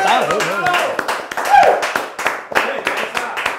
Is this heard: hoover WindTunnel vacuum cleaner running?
no